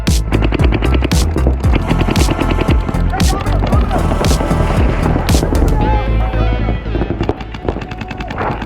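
Paintball guns firing rapid bursts of paintballs at a beginner paintball tournament, with loud, close, continuous popping that barely pauses, and players shouting over it.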